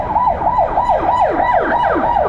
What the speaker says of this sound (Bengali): অ্যাম্বুলেন্স আছে